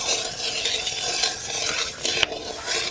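Dried red chillies, cinnamon, cloves and cardamom frying in hot mustard oil in a kadai, a steady close sizzle with a light clink of a spatula, no talk.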